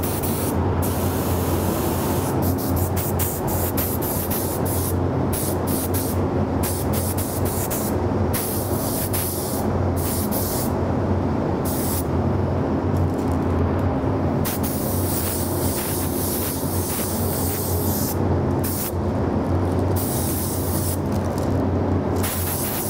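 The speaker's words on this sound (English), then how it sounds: "turn the booth on, and spray this sucker." A spray gun hisses loudly in long bursts with brief pauses between passes, painting a helmet inside a spray booth, over the booth's constant roaring fan.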